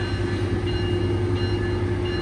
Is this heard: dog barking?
no